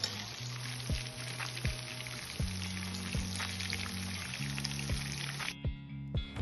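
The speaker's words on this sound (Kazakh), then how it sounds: "Енді тауық етімізді алып, кептірілген нан ұнтағына жақсылап араластырып қуырып алатын боламыз" Breaded, marinated chicken pieces fry in hot oil with a steady, close sizzle and crackle that runs under background music, then drops away near the end.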